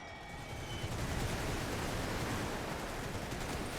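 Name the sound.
musket gunfire from infantry in The Great War 6.0 video game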